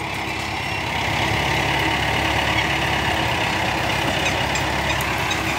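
A Mahindra Arjun Ultra 1 tractor's diesel engine idles close by, a steady, loud low rumble with no break and no talking over it.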